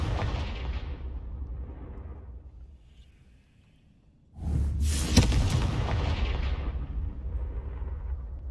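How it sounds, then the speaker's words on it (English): A Confringo fire spell bursts in Hogwarts Legacy gameplay: a loud booming rumble fades to near silence, then a second sharp explosion erupts and rolls on with a long, crackling roar. "Confringo."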